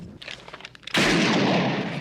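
A single loud gunshot from the film The Thing (1982) blasts after a stretch of faint scattered sounds, its sharp crack followed by a long booming, fading reverberation.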